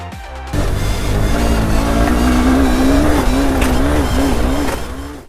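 Honda CB200X motorcycle engine revving hard, a loud close-up rising and falling engine drone that holds for several seconds before cutting off abruptly.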